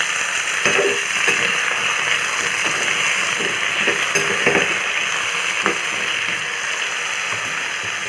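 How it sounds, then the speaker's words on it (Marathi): Chopped ash gourd goes into a pan where fenugreek seeds are frying, giving a steady sizzle broken by a few light scraping and clinking stirring sounds. "मेथीदाणे थोडे झाले की हे चिरलेलं कोळ त्यामध्ये टाकायचं"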